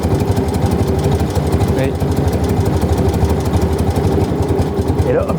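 A BMW R75 motorcycle engine with Bing carburettors being synchronised runs with a steady, close, throbbing idle that rises slightly, while someone speaks briefly over it.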